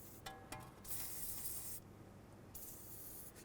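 Rust penetrant sprayed from an aerosol can onto the front strut bolts of a 2012-15 Chevy Cruze, in two long hissing bursts with a brief pause between, fairly quiet and with no talking.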